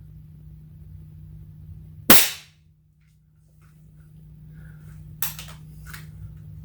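A Xisico Hercules B5-10 .177 multi-pump repeater air rifle is cocked and pumped, giving one sharp, loud mechanical snap followed a few seconds later by a softer clack and brief rasping movement.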